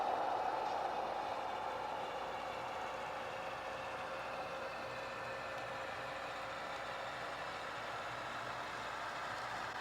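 HO scale BN green model locomotives run along a model railroad, giving a steady, continuous rumbling hum at moderate, even volume with no talk.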